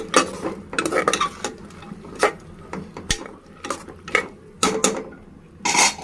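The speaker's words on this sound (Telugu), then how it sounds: "ఇప్పుడు మనం గోరుచిక్కుడుకాయ వేసేసాము. బాగా కలుపుకుంటే" Cluster beans and chana dal are stirred in a pot, giving repeated irregular scrapes and clatters of a spoon over a faint background sizzle.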